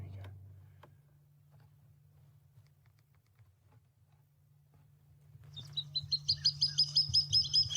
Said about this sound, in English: So that's another bird you might hear at night, the water thickney.